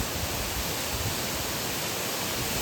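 Vyaghreshwar waterfall at Manche in the Konkan during monsoon pours with a steady, dense, hissing roar that fills the whole stretch evenly and close by.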